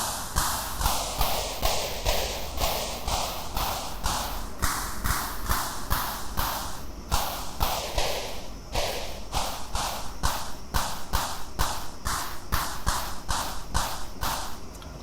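A pitch-shifted synthesized clap sample on a Korg ES1 sampler repeats in a fast, steady stream of bright, noisy hits that swoop in pitch, loud and with no voice over it.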